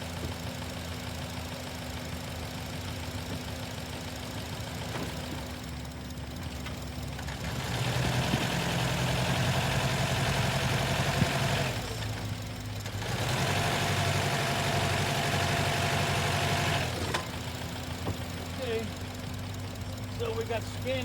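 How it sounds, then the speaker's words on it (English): A Honda car engine idles steadily with a low, even hum, rising in level for a stretch midway while someone talks over it. "We're idling right now."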